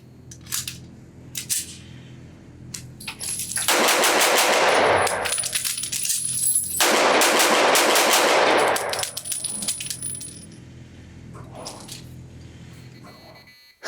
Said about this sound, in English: how fast I can shoot this trigger in a short group